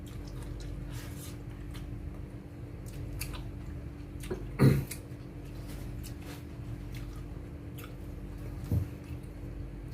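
Quiet close-up chewing of crunchy cooked mustard greens, with a few louder crunchy bites standing out over a soft, steady hum.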